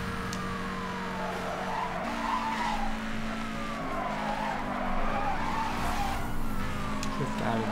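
A car drifts in Need For Speed Hot Pursuit with loud, sustained tire skidding and squealing over racing engine tones that shift pitch, plus a faint siren-like wail behind, all fairly close.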